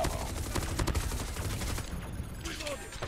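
An SMG fires rapid bursts in a Call of Duty ranked match, dense and loud, with a short lull before the shooting resumes.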